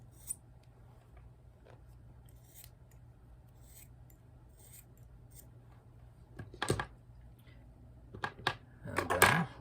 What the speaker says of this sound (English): let's take the scissors and cut off the excess.